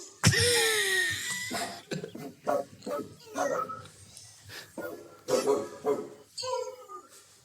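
Poodles bark and yelp in short, strained bursts, some rough and cough-like, spread across several seconds with a few high whiny tones.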